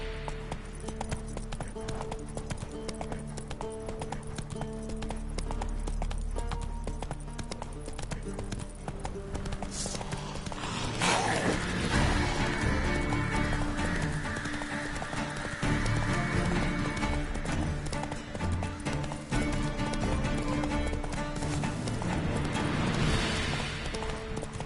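Hooves of a ridden horse clip-clop steadily and close, with a whinny partway through, under music and a busy mix of other sounds.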